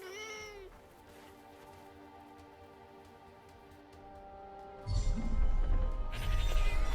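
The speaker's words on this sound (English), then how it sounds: "A cat." A cat lets out one rising and falling meow at the start, followed by a long, tonal, held caterwaul-like cry, then a loud crashing burst near the end.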